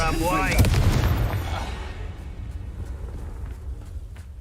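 A Bombarda blasting spell goes off in Hogwarts Legacy, a loud close boom with a rumbling low burst that decays into a long, fading tail, with talk over the start.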